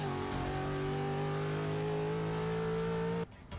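A car launches and accelerates in the Forza 6 racing game, its engine revving in a steady, rising drone for about three seconds before cutting off abruptly.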